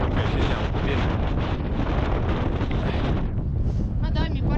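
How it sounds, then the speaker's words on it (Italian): Strong wind gusts across an open outdoor spot during wild camping, a loud continuous rushing roar battering the microphone, with a brief voice at the end. "mi porta via questo vento"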